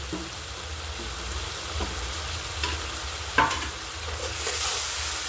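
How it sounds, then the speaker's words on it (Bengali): Spices sizzling in hot oil as they are fried and stirred for potol chingri, made with chilli powder, cumin and coriander powder: a steady crackling fry broken by intermittent scraping strokes of the spoon, close by. "এবার এটাকে ভালো করে আমরা ভেজে নেব যতক্ষণ না মশলাগুলো ঠিকঠাকভাবে কষা হয়ে যায়"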